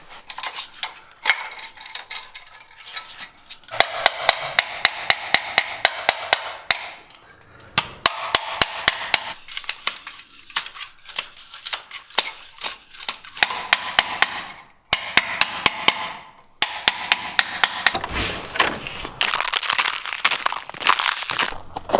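Hammer blows land in fast rhythmic bursts of sharp metallic impacts during electrical work on a house after a failed inspection, near and loud, with pauses and some clattering and crinkling between the runs.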